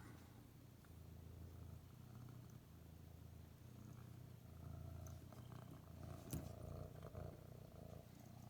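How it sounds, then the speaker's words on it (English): A cat purrs softly and continuously, a low rumbling drone that swells slightly near the end, with a faint click midway. "I don't know if you guys can hear her purring"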